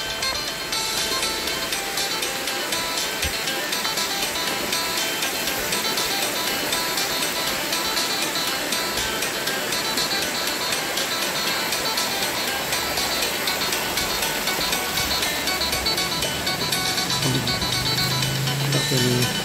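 The Phiang Din waterfall in Suan Hin district, Loei province, Thailand, produces a steady, loud, continuous roar of rushing water. The sound is close and unbroken throughout, with no voices.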